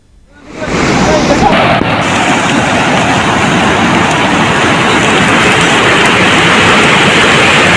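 Heavy, steady rain pours without a break for several seconds, a dense, close hiss during a downpour in Telangana. Faint traffic rumble sits underneath, and there are no voices.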